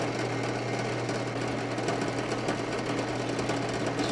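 A steady mechanical whir of a cutting tool working into material, constant and fairly loud with a low hum throughout.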